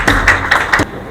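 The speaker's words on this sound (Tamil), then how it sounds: "காலை நேரத்திலேயே உங்களுடைய கரகோஷம் இவ்வளவு குறையலாமா?" Applause from the audience at a morning movie launch ceremony: four distinct, fairly loud bursts of clapping in quick succession, then a sudden drop to quiet.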